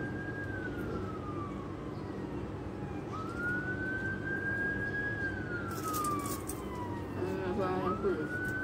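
Police car siren in Dubai near the airport, a long slow wail rising and falling over steady road traffic noise, with brief honks and voices toward the end.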